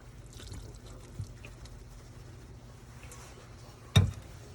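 Fat drains off cooked Bolognese meat as a faint liquid trickle and pour, with a few light clinks and one sharp knock near the end.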